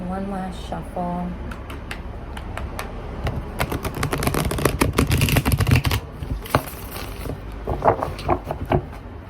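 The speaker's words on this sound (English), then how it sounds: "One last shuffle." A deck of Dark Mansion tarot cards is shuffled by hand, giving quick riffling and flicking clatters that swell and fade across several seconds, close by, after a brief moment of voice at the start.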